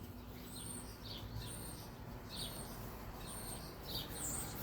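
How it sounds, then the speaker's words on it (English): Faint, high bird chirps come through at intervals, about five short calls over a steady background hiss, far off and without any talk. "Just a bird."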